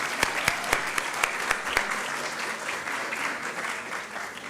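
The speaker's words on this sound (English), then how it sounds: "So maybe another round of applause for Goran and his team for all the hard work they're doing." A conference audience at a human rights event during EuroPride in Belgrade bursts into sustained applause, dense clapping with a few sharp claps standing out early and then a steady roar that gradually eases off.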